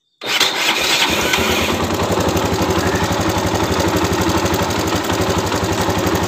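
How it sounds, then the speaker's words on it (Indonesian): A motorcycle with a three-phase stator coil is started and settles straight into a loud, close, rapid idle whose even putter continues to the end. "coba kita nyalakan dulu motornya ya"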